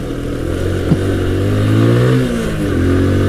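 A 2020 TVS Apache RTR 160 2V motorcycle accelerates hard, its engine note climbing steadily through a gear change, close and loud with no talking.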